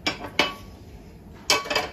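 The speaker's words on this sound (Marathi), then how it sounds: "आता मी इकडे आप्पे पात्र ठेवून घेते" A metal appe pan clanks onto a stovetop with two quick sharp knocks, then a pause and another cluster of clattering metal contacts, close and loud.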